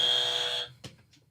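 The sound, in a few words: trivia game buzzer being pressed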